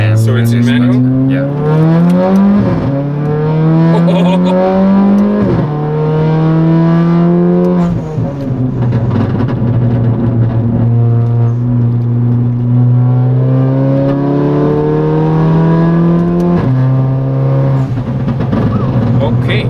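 A loud Mercedes CLA 45 AMG widebody in manual race mode accelerates hard from inside the cabin. Its engine note rises steadily through several gears, with sharp drops at each upshift, loud and continuous for the whole stretch.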